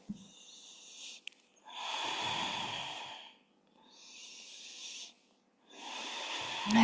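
Slow, deep breaths during a gentle chest-opening yoga exercise, with long airy inhales and exhales alternating in a steady rhythm, close and soft, with no talking.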